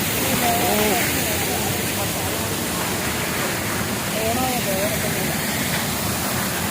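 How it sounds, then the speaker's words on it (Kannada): A loud, constant roar of Hogenakkal Falls heard from right beneath the falls, a dense unbroken rush of falling water; a couple of faint voices rise briefly over it. "ನೇರ ಫಾಲ್ಸ್ ಅಡಿಲೇ ನಾವು ನಿಂತಿದ್ದೀವಿ"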